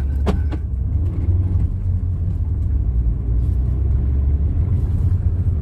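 Steady, close car engine rumble while a car drives along a boulevard, a low continuous drone with no talking.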